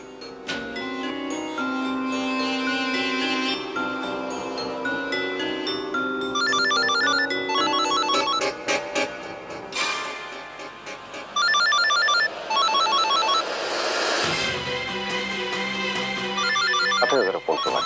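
Electronic telephone ringtone playing a repeated melodic tune, loud and continuous, with short breaks between phrases and no voices.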